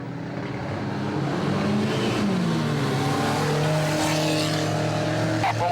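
Ministox stock cars roar off at the race start, several engines revving and climbing in pitch close by, with a commentator talking over the noise.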